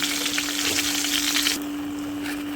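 Dried red chillies frying in hot oil in a pan, a dense crackling sizzle that drops abruptly to a quieter, thinner hiss about halfway through.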